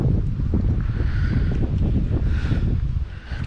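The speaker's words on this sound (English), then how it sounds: "That wind is killer." Wind buffets the microphone while crappie fishing near Grassy Lake, a steady loud low rumble that fills the whole stretch with no talking.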